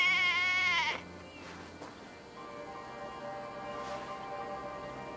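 A single loud sheep bleat from the video game Assassin's Creed Valhalla opens the clip, a wavering cry lasting about a second, followed by quiet background ambience.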